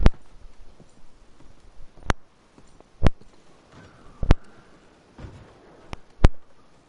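Sharp horse hoof clip-clops in Red Dead Redemption 2, sparse and irregular, a handful of crisp knocks spread across a fairly quiet background.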